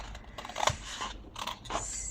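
Scissors snip through paper in a few quick, close cuts, with small crisp scrapes and clicks between the snips.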